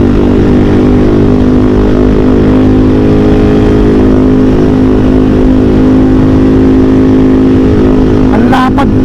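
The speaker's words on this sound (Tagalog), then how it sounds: "Grabe yung backfire ng motor niya." A CFMOTO 450SR S motorcycle runs loud and close with a steady, droning engine note, then gives a brief sharp pop like a backfire near the end.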